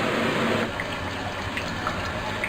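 Steady wash of running water during cooling of a pilsner wort after the boil, a continuous broadband hiss that is a little louder for the first half-second and then even, with no talk.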